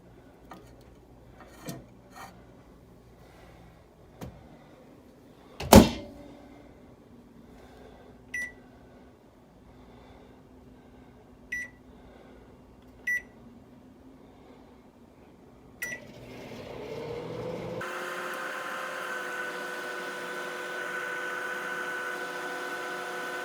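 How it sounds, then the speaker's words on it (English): A microwave oven with raisins inside: a few sharp clicks and beeps at the start, then the oven settles into a steady, even running hum that continues to the end, close and moderately loud. "We have raisins, and we're going to put it in the microwave."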